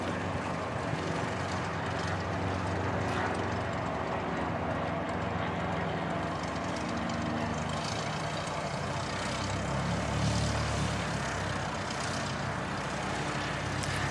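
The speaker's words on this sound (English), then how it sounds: "Nailed that landing, mate. 10 out of 10. Good looking Cessna." Cessna propeller plane taxiing after landing at Christchurch Airport: a steady engine drone runs throughout, with the low rumble shifting and swelling toward the end, no voices heard.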